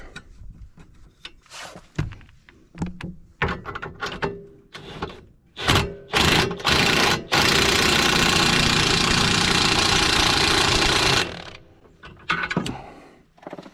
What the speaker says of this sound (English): I have to put it through the top here. so that I can use the impact wrench